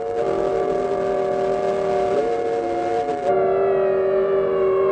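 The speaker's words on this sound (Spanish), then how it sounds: "La CNT hace sonar las sirenas de las fábricas y del puerto." Factory and port sirens wail together across a city at the start of an uprising, several sustained pitched tones layered loud and steady, one shifting pitch midway before the blend changes; no voices.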